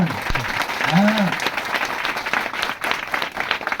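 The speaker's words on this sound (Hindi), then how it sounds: "जोर से ताली बजा।" A church congregation applauds loudly, a dense sustained clapping across the whole stretch, with a brief voice near the start.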